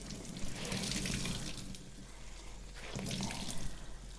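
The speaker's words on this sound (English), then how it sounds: "You're just going to wash the rest of the soap out. And keep rinsing until your water is mostly clear." Tap water runs over tie-dyed fabric being rinsed in a sink, a soft continuous splash with two swelling surges as the cloth is worked under the stream; no voices.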